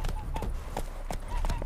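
Roach the horse's hooves clip-clopping in The Witcher 3, a steady run of hoofbeats beneath a voice and game music.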